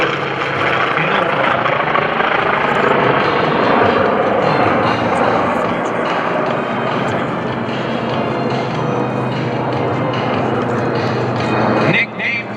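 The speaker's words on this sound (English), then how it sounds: "Nicknamed the COD, it's short for Carrier Onboard Delivery." A COD Carrier Onboard Delivery propeller aircraft flies past at an airshow, its loud, steady engine drone filling the whole stretch and cutting off abruptly near the end.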